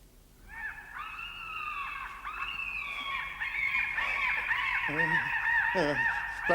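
Gulls cry in a film scene, several harsh overlapping calls rising and thickening into a noisy chorus, fairly close and loud.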